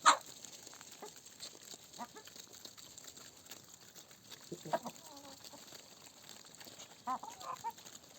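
Chickens, geese and a duck feed in a farmyard in winter, with scattered soft clucks and a few sharper honks and calls at middle distance over quiet background.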